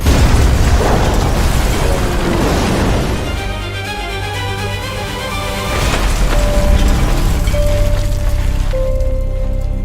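Heavy rumbling blasts with crackling debris, a loud burst near the start and another swell midway, like a big explosion.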